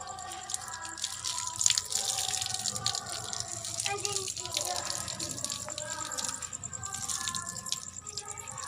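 Water rinsing a woman's hair during a low-budget home hair rebonding treatment in a mountain village, a continuous close splashing and dripping flow with some faint background voices.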